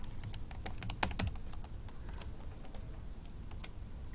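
Command being typed on a computer keyboard, a run of quiet, close, irregular key clicks with a few louder taps near the middle.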